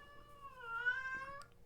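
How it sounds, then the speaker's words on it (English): A pet cat meows in a single drawn-out, rising and falling call, close and clear, with no talk over it. "That's my cat. She's annoying."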